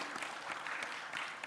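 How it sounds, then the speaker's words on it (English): Sustained applause from a conference audience, a steady crackle of many hands clapping throughout. "Can we have a round of applause"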